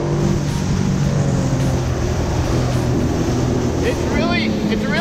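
A jet ski engine drones steadily at high speed across open water, a loud continuous roar with wind and spray noise throughout and a voice talking over it.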